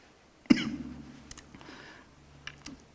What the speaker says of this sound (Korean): 흥분을 했는지 기침이 계속